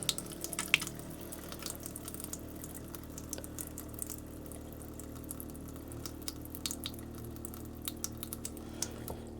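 Water runs from a bathroom sink tap in an RV camper during winterizing, a steady hiss and trickle with scattered drips and a low pump hum underneath.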